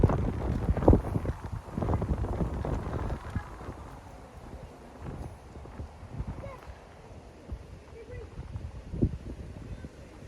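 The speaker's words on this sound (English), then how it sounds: "There's lots of wind around today, guys, so that might be interfering" Wind rumbles across an open abbey-grounds setting and buffets the microphone in loud, uneven gusts, strongest at the start, easing to a steady blustery roar with occasional thumps.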